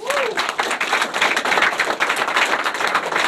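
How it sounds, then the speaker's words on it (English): A crowd at a music producers' beat camp in Miami in 2014 claps for a guest, loud, dense and sustained, with some voices under the clapping. "So clap your hands on time for the homie Tech B."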